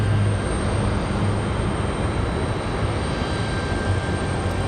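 A Frontier airliner departs Raleigh Durham airport, its engines producing a steady broadband roar that holds constant throughout, fairly distant and alone.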